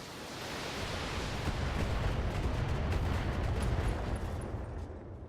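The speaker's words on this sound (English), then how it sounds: "Okay, we had an ammo explosion." An ammo explosion in the BattleTech video game makes a steady, loud, noisy roaring blast that swells and holds for several seconds before easing off, with no speech.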